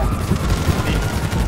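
Rapid gunfire in GTA 5 during a casino heist, a dense burst of shots layered with game noise and muffled voices throughout.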